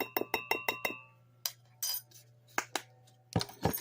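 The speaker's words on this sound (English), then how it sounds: "And then we're going to mix this all together, like all these wet ingredients." A spoon clinks repeatedly against the inside of a mug while wet ingredients for a cinnamon roll mug cake are mixed, with a quick run of sharp taps followed by scattered, sparser clinks and stirring scrapes, close up, with no talk.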